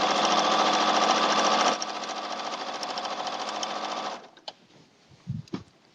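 A sewing machine stitches binding along the raw edge of a quilt, running in a loud, steady whir that eases in pace partway through, then stops, leaving a few faint clicks and handling sounds.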